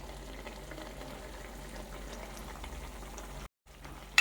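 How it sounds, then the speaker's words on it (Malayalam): Avial, a vegetable curry, simmers in a pot with a steady soft bubbling hiss, fairly quiet and continuous, broken by a brief gap near the end. "നമ്മുടെ അവിയൽ ഇങ്ങനെ തിളച്ചോണ്ടിരിക്കുകയാണ്."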